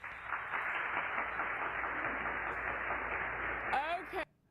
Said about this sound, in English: That's the worst canned applause ever